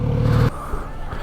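A Kawasaki Z900RS motorcycle revving, a close, loud engine burst that cuts off abruptly into a lower idle rumble with faint spitting pops.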